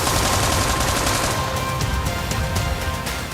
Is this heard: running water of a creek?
no